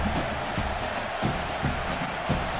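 Stadium crowd roar in a college football video game as a kicker lines up a long field goal attempt, a dense continuous wash of cheering and noise with faint rhythmic pulses.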